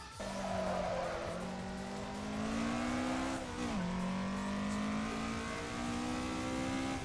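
Racing car in Assetto Corsa running the Akina downhill course, its engine droning steadily with gear changes and rising revs while the tires squeal through corners, loud and continuous with no talking.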